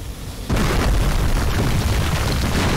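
An explosion in the video game Overlord hits suddenly after a brief quiet lead-in, then holds as a loud, dense, sustained rumbling roar that fills the rest of the moment.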